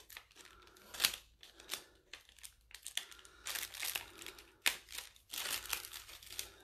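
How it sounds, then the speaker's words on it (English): Scissors snip through a piece of leather to cut out a square, giving a run of close, quiet crinkling and crunching cuts in irregular bursts with short pauses, with no voices. "I'm going to cut this weird square out right now"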